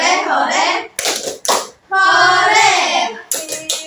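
Students in a classroom clap together in rhythmic bursts and shout a cheer, with a teacher's voice leading between the loud clapping sections.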